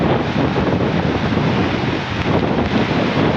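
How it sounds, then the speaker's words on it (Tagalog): Strong wind roars and buffets the microphone over a broad, surging wash of heavy rain and water in Balingasag, Misamis Oriental, loud and continuous, with no voices. "sobrang lakas na po ng ulan at hangin"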